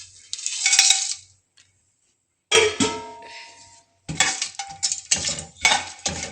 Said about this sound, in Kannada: ಈಗೆಲ್ಲ ಡ್ರೈ ಮಸಾಲೆಗಳನ್ನೆಲ್ಲ ಹಾಕ್ತಾ ಇದ್ದೀನಿ ನಾನು ಅದರೊಳಗೆ.